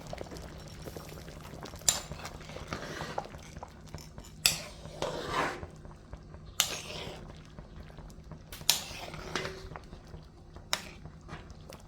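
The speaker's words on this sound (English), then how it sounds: "we're going to drop these in the pot now" Pieces of ingredient dropped one at a time into a simmering pot of Jamaican spicy chicken soup, each landing as a soft splash and clink spaced a second or two apart over a low bubbling hum.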